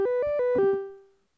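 A mono-mode string synth patch in Ableton Drift plays a short run of single gliding notes, stepping up and back down before a final note fades out, clean and alone.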